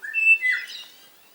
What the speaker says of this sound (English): Angels. The angels are here. Eastern rosellas.